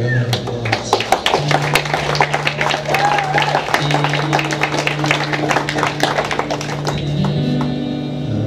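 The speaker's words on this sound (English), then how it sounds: "Let's give them both a round of applause." Audience applause in a live music venue after thanks to the opening acts, a dense patter of many hands clapping steadily for several seconds under a sustained low hum, fading toward the end.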